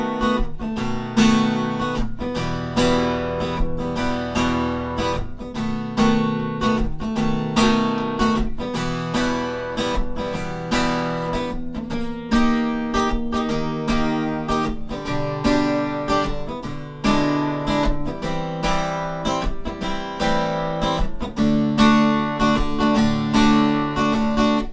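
An acoustic guitar strums the bridge of a song in a steady, rhythmic chord pattern, loud and close for the whole stretch with no talking.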